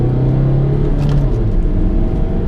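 A Volvo C30 accelerating in second gear, the engine giving a steady, close, rising drone with a strong low hum that holds throughout a short stretch.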